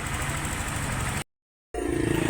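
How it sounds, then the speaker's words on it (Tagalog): Yamaha NMAX V3 scooter engine firing up for the first time after a top overhaul, running steady and loud up close, then cutting out briefly before restarting with a rougher, pulsing idle. "Mao na niyang first andar no gikan sa pagbungkag sa ulo."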